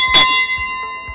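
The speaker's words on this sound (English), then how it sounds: "you get to ring the bell to tell everyone that dinner's ready" A ship's galley bell aboard the Atyla rings once to call the crew to dinner, a loud bright strike that rings on with a long, slowly fading tone.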